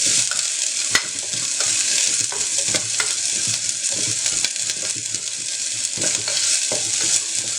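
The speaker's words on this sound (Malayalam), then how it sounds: "അത് നന്നായിട്ടൊന്ന് ബ്രൗൺ കളർ ആവുന്നത് വരെ ഒന്ന് ഫ്രൈ ചെയ്തെടുക്കാം" Chopped red shallots fry in oil in a pot with a steady, loud, close sizzle and crackle, broken by light scraping and stirring taps throughout, with no voices.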